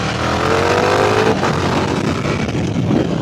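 A KTM 1390 R Duke Evo motorcycle in track mode accelerates loudly, its engine roaring steadily close by with a rising tone early on, then a sustained full-throttle growl with no talk.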